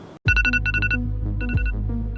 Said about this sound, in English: The alarm goes off on your phone.